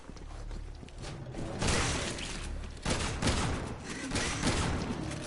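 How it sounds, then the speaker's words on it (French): Shotgun blasts in the video game Resident Evil 6 boom loudly amid mechanical clatter and game effects, with two strong bursts and a busy, noisy action background. "une balle de fusil à pompe, il est coupé en deux"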